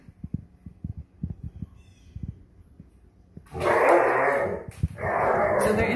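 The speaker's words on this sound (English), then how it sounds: "What you hear in the back is Shadow playing with Whisper." Alaskan Malamute litter mates playing indoors, soft thumps and scuffles followed by loud, drawn-out growling howls and playful vocal bursts, close by.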